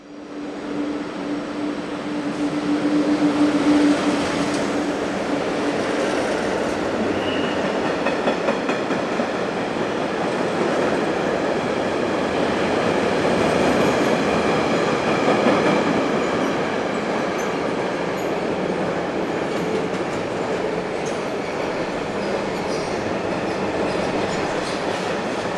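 A freight train passes through the Olten area of Switzerland, heard as a loud, sustained rumble of rolling wagons with a faint clickety-clack and a brief squealing tone early on, continuing steadily at close range without speech.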